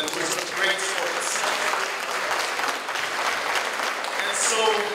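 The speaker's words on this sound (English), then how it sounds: "how about a round of applause for all of the gentlemen who are such great sports" Fashion show audience applauding the gentlemen models, steady dense clapping from a crowd that holds at an even level for the whole stretch, with slight swells near the start and end.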